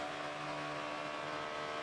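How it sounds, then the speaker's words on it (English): A NASCAR stock car engine holds a sustained, hanging high RPM during practice at Texas, a steady sharp drone with no speech. "you can hear right there what we mean by the RPM. It's that sustained, just a hanging RPM"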